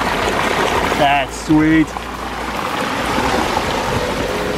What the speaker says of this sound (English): Nice little hidden waterfalls over there.